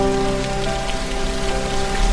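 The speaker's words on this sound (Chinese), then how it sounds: "你想听听上海的雨声吗？" Rain falling steadily in Shanghai, a dense even patter of drops striking surfaces, continuous and fairly close with no voices.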